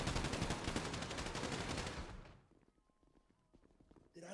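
Rapid automatic gunshots in a GTA roleplay game, a dense loud burst of fire lasting about two seconds that stops abruptly, followed by quieter scattered clicks and movement.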